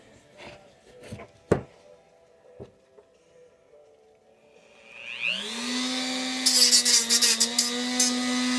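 A few light knocks and clicks come first, then a Dremel rotary tool spins up and holds a loud, high-pitched whine, with grinding bursts as the accessory touches the work.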